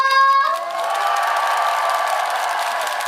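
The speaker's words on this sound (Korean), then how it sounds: "많은 분들께서 하동으로 많이 놀러 오시라고 다 같이 박수와 함성!" Crowd at a celebration concert for the Hadong World Tea Expo bursting into cheers and applause right after a voice calls out. Shouts and clapping blend into a loud, sustained roar.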